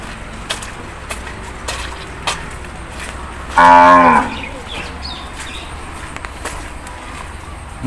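A single loud, close moo from beef cattle at a rural cattle market in the rain, lasting about a second, over faint background footsteps and ambient noise.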